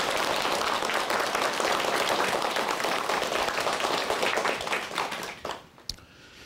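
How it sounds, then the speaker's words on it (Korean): Studio audience at a televised Korean lecture broadcast gives sustained, dense applause that holds steady and loud for about five seconds, then thins out and fades to a few last claps. "큰 박수로 강의 청해 듣겠습니다."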